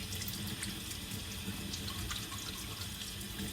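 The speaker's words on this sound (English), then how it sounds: "I'm just gonna rinse my hands real quick." A kitchen tap runs steadily while hands are rinsed under it during cooking, a continuous hissing splash of water at moderate distance with small irregular spatters and no speech.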